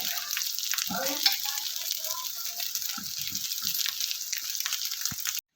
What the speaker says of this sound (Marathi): मी खिचडी पूर्ण परतत आहे